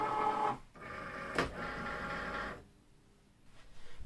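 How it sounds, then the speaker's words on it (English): A Cricut Maker cutting machine loads a sheet of cardstock for a holiday card. The motor whirs steadily and close by, with a sharp click partway through, then stops and leaves quiet with a few faint rustles. "We're going to apply our cardstock and then insert this into the machine."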